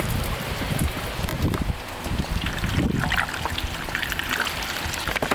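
Spring water pours steadily through a funnel into a collapsible water bag beside an off-grid camper van, a continuous close gurgling trickle with no talking.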